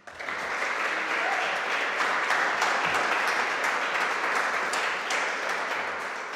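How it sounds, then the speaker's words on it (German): Audience applause at a classical concert, a steady dense wash of many hands clapping that holds evenly throughout, close and full, with no talking over it. "Und da bitte ich um einen kleinen Applaus."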